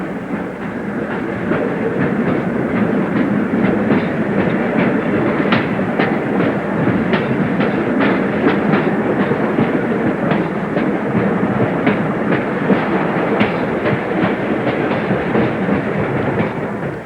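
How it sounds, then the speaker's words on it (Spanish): Train on the mountain railway to Machu Picchu, a loud, steady rumble of rolling wagons with a rhythmic clickety-clack from the wheels over the rail joints, continuing without pause and with no voices. "al viejo camino inca se ha unido otro de hierro por el que circula un tren en accidentada marcha"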